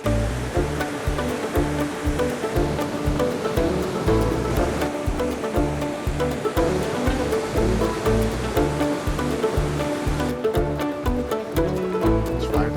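A glacial river rushes through a gorge in Slovenia as steady, loud broadband water noise, constant and enveloping throughout with no voices.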